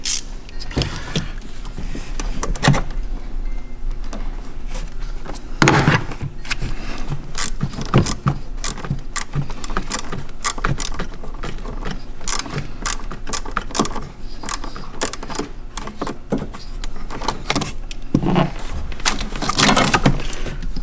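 A silicone intake hose clamp being tightened on a Mk2 Tiguan during a turbo inlet pipe install, rapid repeated ratcheting clicks and mechanical taps that run steadily at close range, with no voices.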